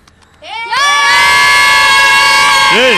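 A crowd of children shout loudly and excitedly together, with rising voices that build quickly after a quiet start and stay loud and noisy to the end.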